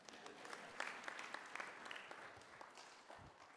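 Conference attendees at an East African Court of Justice judicial gathering keep up a sustained round of clapping, even and moderately loud throughout, with scattered crisp claps and no speech on top.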